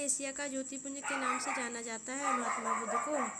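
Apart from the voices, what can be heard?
dogs barking outside at night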